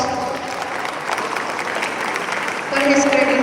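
Students in a university conference hall give a steady round of applause, dense clapping that grows slightly louder near the end, with some voices mixed in.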